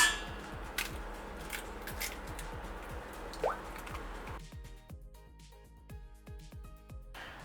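Six eggs cracked into a stand mixer bowl one after another: repeated soft wet plops and squelchy drips, close and fairly quiet, with faint background noise and no talking.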